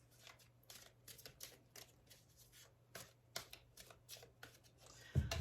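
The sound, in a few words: shuffling and cutting a tarot card deck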